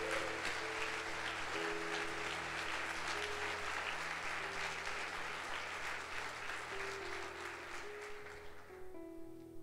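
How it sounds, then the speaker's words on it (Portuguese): A church congregation at a Sunday service breaks into sustained applause, a dense, steady wash of many hands that fades toward the end, with a sustained musical tone beneath it. "Vamos dar um aplauso a Ele?"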